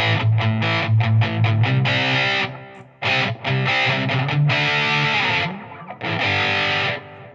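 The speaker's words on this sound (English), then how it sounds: "Now, if I were to just use the distortion pedal," An electric guitar played through a Boss Metal Zone MT-2 distortion pedal: loud, thick, heavily saturated chords and palm-muted chugs with brief stops between phrases and no voices.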